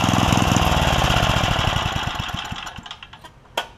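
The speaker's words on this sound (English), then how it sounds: "I think it's still running a tad rich, but it idles down" A Craftsman edger's 3 hp Tecumseh engine, fitted with a snowblower carburetor and running slightly rich, putters loudly and then slows into a lumpy, uneven idle with sputtering pulses and a few sharp pops near the end.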